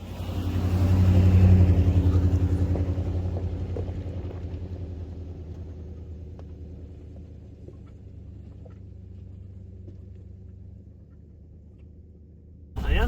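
A van with a seized gas pedal creeps along slowly under a low, steady engine rumble and road drone. The sound swells early on, then settles into a quieter, even hum.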